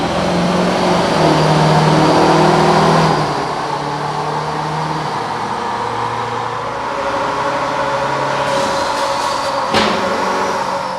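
A car on a dyno during a dyno run, engine droning loud and steady with rising and falling revs, a brief drop in pitch, then a sharp pop near the end.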